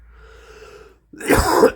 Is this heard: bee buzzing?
no